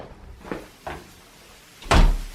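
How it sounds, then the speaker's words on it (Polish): A newly installed exterior door fitted with an electronic lock swings shut with a solid, heavy thud near the end, after a couple of softer creaks and handling knocks. "Drzwi się zamykają dobrze, nic nie obciera."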